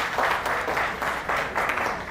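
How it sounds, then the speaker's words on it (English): An audience at an awards summit and expo in India breaks into steady applause, a dense wash of many hands in loose pulsing waves, moderately loud with no talking over it. "Applause, guys."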